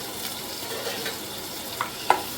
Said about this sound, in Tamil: நல்ல சின்ன வெங்காயம் வதக்கிக்கோங்க நல்லா ஒரு நூறு சின்ன வெங்காயம் போட்டிருக்கேன்